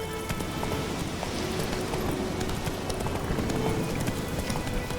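Horse hooves gallop in a steady, dense clip-clop over a continuous background rumble in The Witcher 3: Wild Hunt, moderately loud throughout.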